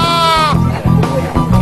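Sheep bleat loudly and up close at a morning livestock auction in the hills near La Paz, Bolivia, one long wavering bleat followed by lower overlapping calls and murmur from the pen.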